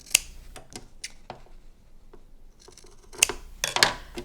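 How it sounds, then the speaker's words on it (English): Fabric shears make a series of crisp snips while trimming quilt block seam allowances. The cuts come close and irregular, with a quicker cluster of snips near the end and no talking. "I'm just going to take shears and eyeball it"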